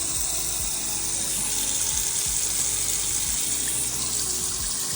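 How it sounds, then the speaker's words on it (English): Water gushes from a kitchen tap at full force, a steady loud hiss and splash into a sink with occasional low knocks, while a newly replaced garbage disposal is checked for leaks. "Water's on full blast."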